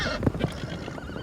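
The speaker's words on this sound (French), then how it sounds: "mère et son poulain galopent, accompagnés d'un cheval noir, un étalon." Wild American mustangs, a mare with her foal and a black stallion, galloping and neighing in the open; a short whinny and thudding hooves sound at mid distance, fairly loud, without voices.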